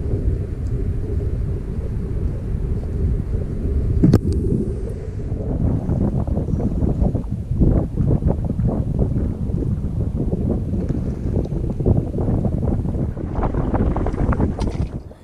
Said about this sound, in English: It's a little bit windy. Wish it was quieter.